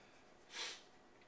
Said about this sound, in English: This is a little sniff here.